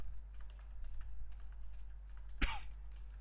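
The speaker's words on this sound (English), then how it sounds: "We have to type some kind of product names like the" Soft clicks of typing on a computer keyboard as product names are entered, a sparse run of light keystrokes with a single short cough or throat-clear partway through.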